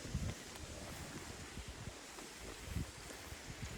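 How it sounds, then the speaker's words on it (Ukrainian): Steady wind buffeting the microphone on a riverbank during October pike fishing, with low rumbling gusts swelling and easing over a constant rushing noise; no voices. "Вітер здійнявся такий."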